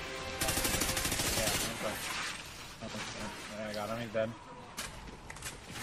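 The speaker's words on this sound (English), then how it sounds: "There's just like explosives and shit going off continually." Explosions and gunfire in the Call of Duty Ghosts video game, with dense bursts of shots and blasts in a busy mix while players talk and shout over the noise.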